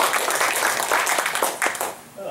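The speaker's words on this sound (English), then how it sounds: "let's give him a round of applause" An audience at an eastern Ohio public meeting gives a congressman a round of applause, a dense patter of hand claps that fades near the end, with voices talking over it.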